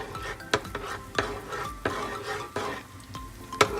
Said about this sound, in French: avec une petite cuillère, on va mélanger tranquillement